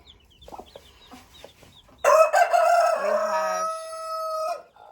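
A broody hen with newly swapped chicks, soft low clucks and faint peeps at first, then a loud sustained squawking call from the hen that trails off, close to the recorder.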